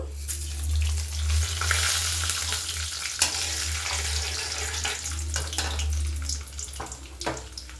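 Chana dal and urad dal frying in about three spoons of hot oil in a kadai for a Telugu tempering, a steady close crackling sizzle with a few stirring scrapes and no talk.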